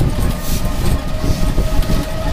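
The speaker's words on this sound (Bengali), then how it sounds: "চলে গেল আমাদের ট্রেন," A train pulls away from a station platform with a loud, continuous rumble and rolling wagon noise up close, steady throughout without any speech.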